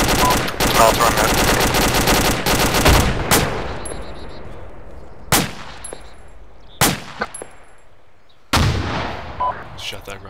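Gunfire in Arma 2 during a winter battle: dense automatic fire at the start, then scattered loud single shots with echoing tails, some near and some farther off, over a low ambient rumble.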